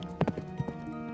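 Hooves of a horse named Albert clip-clop as he carries his rider home in the evening, a few distinct close hoof strikes in quick irregular succession over a steady background hum.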